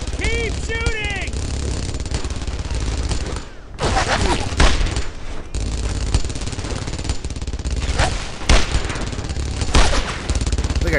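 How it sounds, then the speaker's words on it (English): Rapid bursts of gunfire from the World War II shooter Brothers in Arms: Earned in Blood, loud and sustained throughout, with heavier blasts and a short lull partway through, while voices call out in the game. "Keep shooting."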